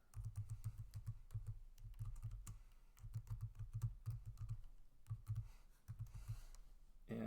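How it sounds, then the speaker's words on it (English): Fingers type on a computer keyboard in quiet bursts of rapid clicks separated by short pauses, close but faint, while a journal entry is typed up. "I'm using about 5 or 6 taps of the space bar to do that"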